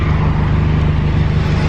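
Steady roar of traffic rushing past close by at the roadside of a German Autobahn, a loud continuous low rumble with no talking.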